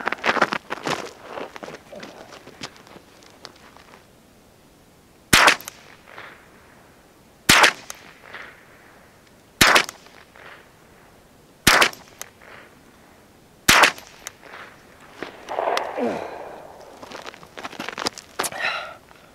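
A Ruger 10/22 rifle fires at a target during a 25 to 100 yard zeroing and accuracy test, giving five sharp, loud cracks spaced about two seconds apart over quieter handling noises and faint rustling.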